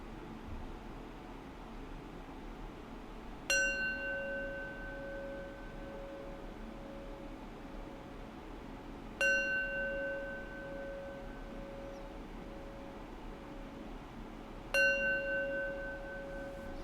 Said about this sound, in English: I'll ring the bell 3 times, and after the sound of the bell subsides